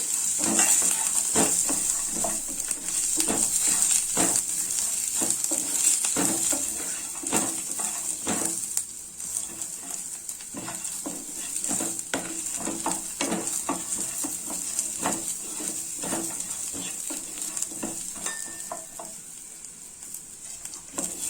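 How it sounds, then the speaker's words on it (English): Green chili, coriander seeds, ginger and garlic fry in a pan for a vegetable donne biryani, a continuous sizzle broken by frequent scraping stirs and spatula taps, close and steady, with no voices. "I'll be adding the green chili, the coriander seeds, ginger and garlic. Let us fry them."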